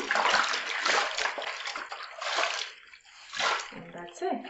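White towels being washed by hand in a basin, water splashing and sloshing in bursts as the cloth is worked, with voice-like sounds mixed in.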